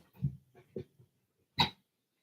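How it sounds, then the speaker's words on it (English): A dog snoring in the back gives a few soft, low snuffling breaths, then one louder, sharper snort near the end, close by with no talking. "This damn dog snoring in the back."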